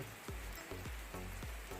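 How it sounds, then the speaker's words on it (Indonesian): Heavy morning rain falls steadily on a home workshop where a Xiaomi Redmi 4A phone is being repaired, a dense continuous hiss with faint recurring low thumps, quiet and without talk. "Pagi ini di tempat saya hujannya deras banget ya."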